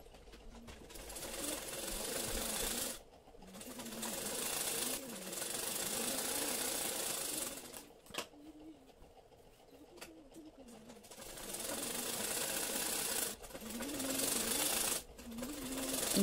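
A sewing machine stitches the main fabric and lining of a katori blouse in steady humming bursts, pausing briefly between runs, with soft pigeon-like cooing in the background.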